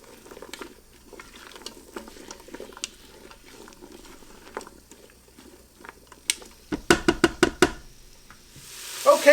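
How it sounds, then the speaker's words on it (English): Garlic sautéing in a Ninja Foodi pressure cooker on sear mode, with a soft, steady sizzle and then a run of quick, close scraping strokes as a utensil stirs the pot, ending in a brief louder clatter. "Let's give this a stir."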